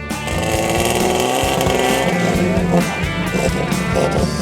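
A Toyota four-wheel drive, Buster, revs its engine hard while bogged down in thick mud, its loud, steady roar surging and straining throughout.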